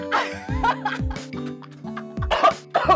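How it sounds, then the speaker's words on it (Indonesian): A person coughs several times in short bursts, mixed with a little laughter, close to the microphone. "Batuk. Sorry."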